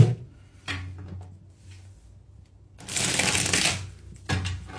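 Quiet riffling and soft flicking of playing cards being shuffled, with one louder, denser burst of card riffling midway, close up and otherwise quiet.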